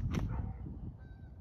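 Several geese honk at a distance, overlapping calls over low rumbling background noise, fading out toward the end.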